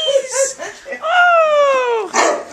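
Leonberger puppies give a close, loud yip and then a long, drawn-out whining bark that falls in pitch, with a sharp yelp at the end.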